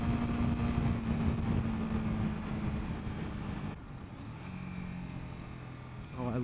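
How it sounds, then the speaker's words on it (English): A 2021 Honda CBR 300R's engine drones under wind rush, then drops in pitch and loudness as the rider downshifts. "Oh, I love that downshifting sound."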